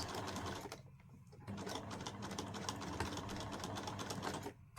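Close, rapid mechanical chatter of a sewing machine stitching a patchwork stocking, running continuously with a short dip in the middle and no talk.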